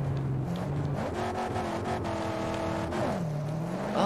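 An engine revs and accelerates in the Mad Max video game as a vehicle speeds off, a steady loud motor tone climbing and shifting pitch through gear changes, continuous with no talk over it.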